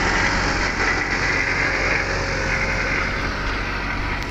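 A tractor pulling a plough through a farm field for summer deep ploughing gives a loud, steady diesel engine drone with broadband rumble, continuous and close with no talk.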